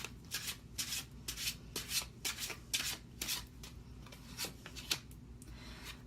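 Tarot cards being shuffled and handled: repeated soft riffling and rubbing bursts in an irregular rhythm, close and fairly quiet, with no talking.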